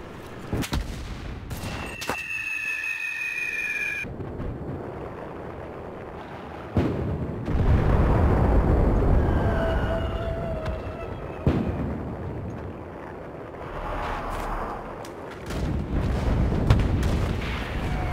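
Artillery barrage in the video game Enlisted: deep booming explosions and rumbling blasts roll on through the scene, with sharp cracks and a long low roar, some nearby and some distant.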